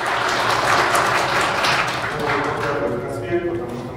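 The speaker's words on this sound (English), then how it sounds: "And you can applaud for him" Conference audience applauding a presenter at a PostgreSQL event, a dense, steady wash of clapping across the whole stretch that thins slightly toward the end, with faint voices underneath.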